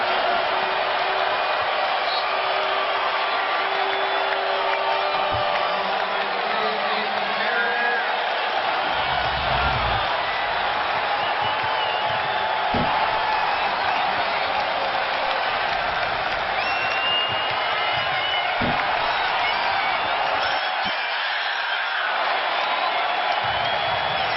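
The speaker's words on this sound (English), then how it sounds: "This crowd thunderous after that alley-oop." A basketball arena crowd in a New York–Milwaukee game roars loudly and steadily after an alley-oop, with applause and cheering filling the space for the whole stretch.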